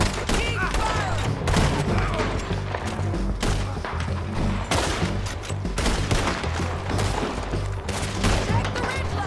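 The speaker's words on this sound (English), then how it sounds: "Keep firing!" Sustained gunfire in the Red Dead Redemption 2 video game, a dense barrage of shots and booms during a fight with bounty hunters, loud and continuous with shouted voices mixed in.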